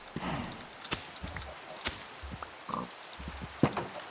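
Pigs grunt in the block-building video game Minecraft, several short, quiet snorts and oinks spaced irregularly among soft footstep-like thuds.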